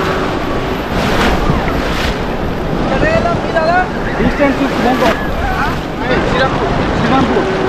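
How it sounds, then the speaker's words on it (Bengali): Ocean waves wash onto Swargadwar beach in Puri, a loud continuous surf roar with wind buffeting the microphone and faint crowd sounds mixed in. "এই দিকটা হচ্ছে স্বর্গদ্বারের বিচ"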